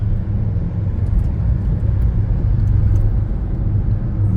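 A car on a four-lane road, heard from inside as a constant loud low rumble of engine and tyres with road noise, steady throughout without a clear change.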